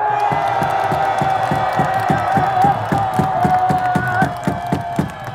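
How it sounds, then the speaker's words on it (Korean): A rally crowd in Korea shouts and cheers in unison, loud and close, with a rhythmic pounding beat of regular thumps running under the chanting voices throughout. "그러면 함성으로 한번 내보세요"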